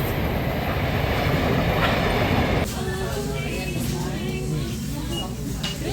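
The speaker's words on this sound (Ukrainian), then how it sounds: "Поїзд їде!" A passing train rumbles loud and close in a steady rolling roar, its railcar noise shifting partway through as wheels clatter and faint squeals come through, with people talking over it.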